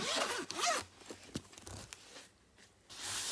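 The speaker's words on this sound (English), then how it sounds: "this is a pencil case, believe it or not" The zipper on a pencil case is pulled open in a quick, close, rasping run of short zips that trails off into quiet.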